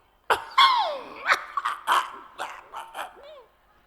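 A voice imitates the harsh coughing of a ganja smoker in a series of rough, throaty bursts in quick succession, close and fairly loud.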